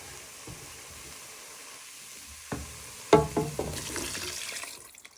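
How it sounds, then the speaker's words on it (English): Chicken stock poured into a pan of softened tomatoes for Moroccan chicken, a steady sizzle breaking into louder splashing bursts and clatters partway through before settling back, with no voices. "So you're now going to add in your stock."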